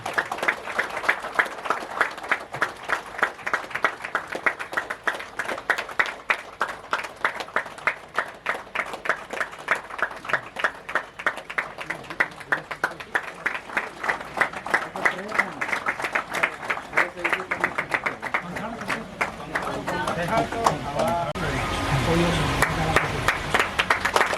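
Audience applause at a lamp-lighting ceremony during a community award function in Jharkhand, steady dense clapping running throughout with talk and a louder burst near the end.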